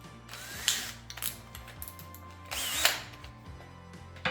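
A drill bores a sound hole in a homemade Viking war horn, two short, close whining bursts separated by quieter mechanical rattling and clicks.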